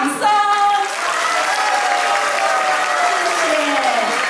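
An audience at a church banquet celebrating a bishop's tenth anniversary in office bursts into loud applause. The clapping runs steadily throughout, with some crowd noise and a faint tonal voice at the start.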